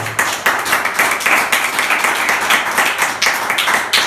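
A church congregation claps in praise, the sharp individual claps forming an uneven rhythmic pattern with distinct peaks, close and fairly loud with no voices over it.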